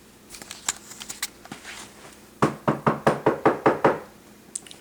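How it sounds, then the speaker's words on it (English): Knuckles rap on wood in a quick run of about seven sharp, close knocks, preceded by scattered lighter taps and shuffling. "You heard me knock on wood there."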